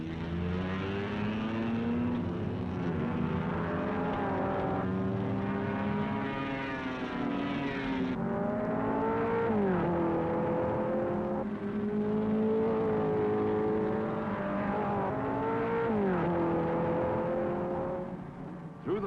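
1957 Ferrari race cars leave the start of the 12 Hours of Sebring on the airport-runway course. Several engines roar loudly and continuously, their pitch climbing and falling as they rev and shift up.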